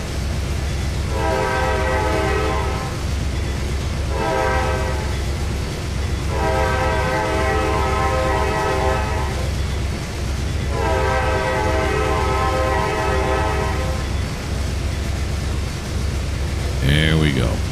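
Automatic train horn in Trainz 2022 blowing a crossing pattern of long and short blasts over a steady rolling rumble of the locomotive, loud and near, with someone talking underneath.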